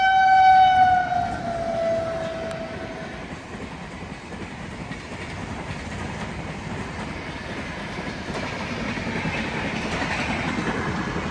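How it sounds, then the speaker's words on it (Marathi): A train passes close by a level crossing, its horn blaring briefly at first, then a long steady rumble and rattle of wheels on track continues. "ही दुसरी रेल्वे आली ही या बाजूने एक रेल्वे इकडे गेली"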